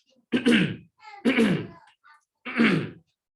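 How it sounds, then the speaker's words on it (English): A person clears their throat three times in short, rough bursts separated by brief pauses, close and fairly loud with no talking. "Continually clearing your throat."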